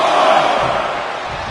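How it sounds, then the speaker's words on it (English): A wrestling crowd in a PS4 game roars loud and dense right after a slingshot DDT off the apron, then eases off slightly as the wall of noise continues. "The sound of this crowd is deafening"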